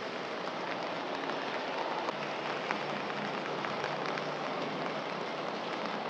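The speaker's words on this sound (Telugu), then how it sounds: "ఈ వర్షం కొడతలేదా నీకు?" Rain falling steadily in a lane, a dense, even patter on surfaces that holds at moderate loudness throughout, with no voices.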